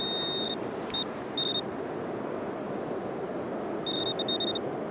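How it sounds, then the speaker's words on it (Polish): Metal detector pinpointer beeping over a 10-grosz coin on the beach: short high electronic beeps in a broken stutter, then a pause and another burst, faint over soft background noise. "Albo sobie pomogę pinpointerem."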